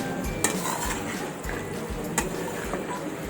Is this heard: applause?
no